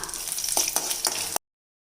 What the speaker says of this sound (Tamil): இப்போ சட்னிக்கு வதக்கிறதுக்கு கொஞ்சமாக நல்லெண்ணெய் விட்டுக்கலாங்க